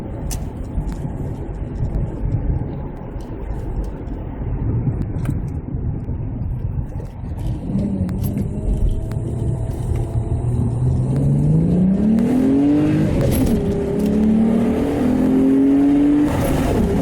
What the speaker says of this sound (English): And now to the acceleration part of the video.